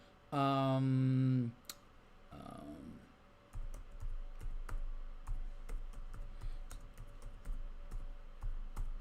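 Computer keyboard typing, a quick run of close clicking keystrokes following a brief tonal chime and a short voice sound, over a low hum.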